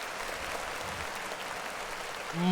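Audience applause during a live hosted show, a steady wash of clapping at moderate level across the whole stretch, swelling a little louder at the very end.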